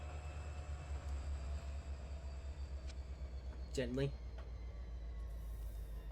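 Train in the Trainz Simulator 3 game easing to a gentle stop, a steady low rumble throughout with a brief squeal of brakes near the end, while someone speaks over it.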